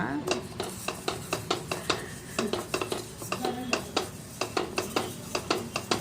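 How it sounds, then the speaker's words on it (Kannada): Sesame seeds roasting in a pan, stirred with a utensil that scrapes and clinks against the metal in a quick, regular rhythm, close and fairly loud. "ಈಗ ಎಳ್ಳು ಒಂದು ಸ್ವಲ್ಪ ಹುರ್ಕೊಳ್ಳೋಣ"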